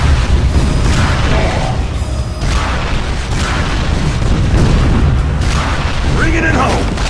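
Heavy weapon fire and booming explosions in the Unreal Tournament 3 Black Edition shooter, loud and continuous, with dense low rumble and bursts throughout under game voices.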